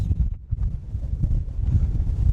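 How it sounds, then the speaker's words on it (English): Strong wind buffets the microphone in heavy, continuous low rumbling gusts on the summit of Snowdon at night, with no voices heard. "Oh my god, it's so windy!"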